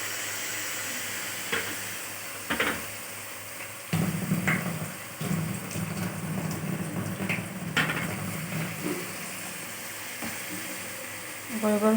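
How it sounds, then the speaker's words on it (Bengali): Gobindobhog rice frying in a pan for a potato and pointed gourd curry, with steady sizzling and occasional scraping stirs that grow louder and denser midway, fairly close and without speech. "এবার চালটা একটু ভেজে নেব"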